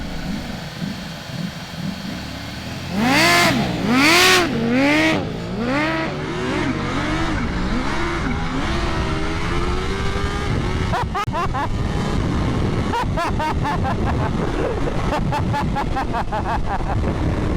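A hyper naked superbike at a drag race bursts into loud, close revs with rising and falling engine pitch. It then settles into a steady, throaty idle broken by sharp crackles.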